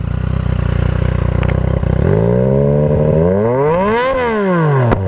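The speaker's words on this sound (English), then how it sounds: "It's quite a relaxed sounding exhaust." A Yamaha MT-09 fitted with a Black Widow 200mm exhaust revs loudly and close by, its engine note sweeping up and down through several blips with a steady throaty idle between them.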